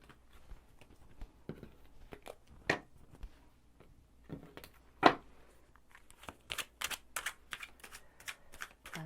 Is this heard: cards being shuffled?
yes